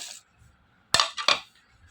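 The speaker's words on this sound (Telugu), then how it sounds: "ఒక మిక్సీ జార్ తీసుకుని ఆ మిక్సీ జార్లో మొత్తం వెల్లుల్లిపాయలు వేసుకోవాలి" Garlic cloves drop into a steel mixer jar in a kitchen: a brief rattle, then two sharp clinking impacts close to the microphone, with near silence between them.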